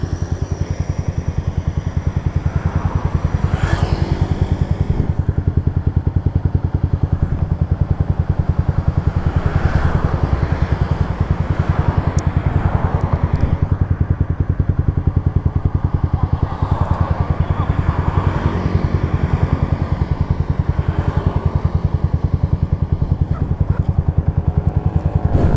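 Yamaha Vixion and Honda CB150R motorcycles ride together at night. Their engines drone loudly and steadily throughout, revving up in a few places and adding a mechanical rattle, with no talking heard.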